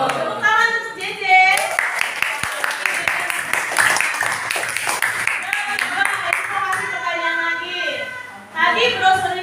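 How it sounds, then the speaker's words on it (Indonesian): A class of primary-school children claps for a classmate, a dense burst of hand claps swelling for several seconds between stretches of a teacher and children talking. "Tepuk tangan untuk JJ."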